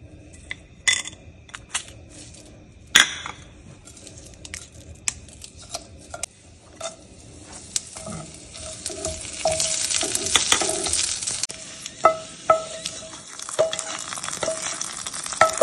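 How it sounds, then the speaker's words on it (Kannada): A ghee tempering with mustard seeds, one red chilli and curry leaves crackles close by, with sharp popping bursts scattered over a rising sizzle that grows thicker and louder toward the end. "ಈ ತುಪ್ಪಗೆ ನಾವು ಸಾಸಿವೆ, 1 ರೆಡ್ ಚಿಲ್ಲಿ, ಆಮೇಲೆ ಕರಿಬೇವು ಸೊಪ್ಪು ಎಲ್ಲ ಹಾಕ್ತೀವಿ."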